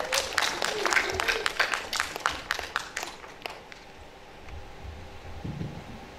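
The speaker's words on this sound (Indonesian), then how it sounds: "Kita berikan tepuk tangan untuk Bapak Rain Rosidi" Applause greeting a speaker at an Indonesian arts forum in Yogyakarta: a few seconds of distinct scattered claps from a small audience, close and loud at first, thinning out into room noise and a low voice.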